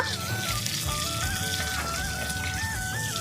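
Green chili fries in hot oil with a dense, crackling sizzle of many tiny pops over a faint melodic tone, and no talking.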